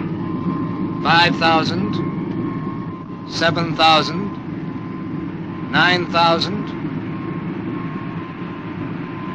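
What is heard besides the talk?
Supercar starboard engine charging up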